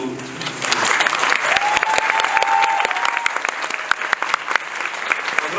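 A musical theatre audience applauds steadily for several seconds at a closing-performance curtain call, dense clapping that holds throughout with faint voices mixed in.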